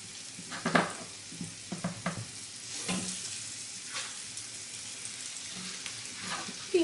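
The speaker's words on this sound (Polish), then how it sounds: "Tłuszcz musi, no już jest rozgrzany, więc obsmażamy z jednej i z drugiej strony." Pork loin searing on each side in hot fat in a frying pan, a soft steady sizzle with a few louder crackles and spatters and occasional handling noises.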